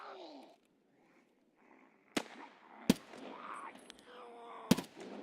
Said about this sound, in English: I'm shooting right now.